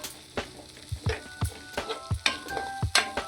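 A spoon scrapes and stirs chickpea curry gravy in a hot pan, producing rhythmic clanks about twice a second over a soft, steady sizzle.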